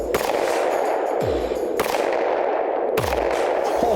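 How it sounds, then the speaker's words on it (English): Sharp gunshots from a Glock 43 pistol firing Liberty Overwatch 9mm ammunition, three loud close cracks roughly a second or more apart, each with a brief ringing tail over steady background noise. "Glock 43, Liberty Overwatch ammo."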